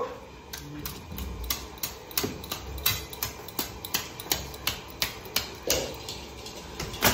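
A fresh Ganges bhetki fish from Chakdaha being cut, giving a steady series of sharp, regular chopping knocks, close and fairly loud, with faint background noise and no clear talk.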